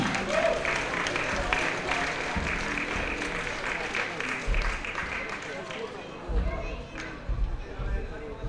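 Crowd applause for a player at a Seahawks Kozły team event, steady dense clapping throughout with low thumps and some voices mixed in.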